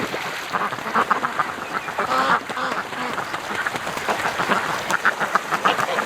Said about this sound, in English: We've got a killdeer that's swooping down here, and the ducks are losing it.